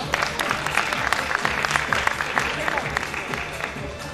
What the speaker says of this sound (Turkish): Ali Kemal Bey, kocaman bir alkış.